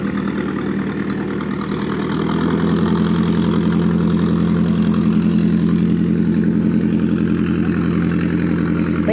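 A boat engine on the river at the Vàm Kì Hôn ferry crossing in Vietnam's Mekong region, a loud, close, steady chugging idle that knocks rhythmically and builds slightly, with no talk.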